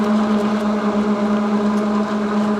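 A steady motor whir with a constant hum drones on without pause, close by, with no voices, from a 775 DC motor driving a fan that propels a bicycle.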